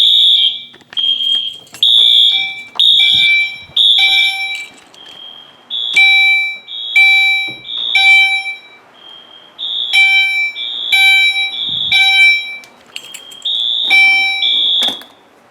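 EST Genesis and Wheelock AS fire alarm horns sound during a system test, loud and close in a steady repeating pattern of short shrill electronic blasts separated by brief gaps.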